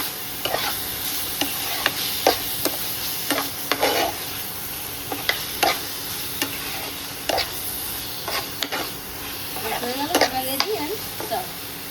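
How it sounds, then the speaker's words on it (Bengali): Cabbage curry with garam masala is stirred in a hot pan: a soft, steady sizzle broken by a dozen or so sharp scraping and clacking strokes of a spatula against the pan. "এবার আমি একটু গরম মশলা গুঁড়ো এর মধ্যে দিয়ে দিচ্ছি গরম মশলা গুঁড়ো। ব্যাস হয়ে গেছে। ভালো করে একটু মিশিয়ে দিই।"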